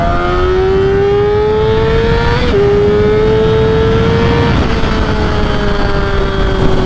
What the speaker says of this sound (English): I'm going to give my bike everything it's got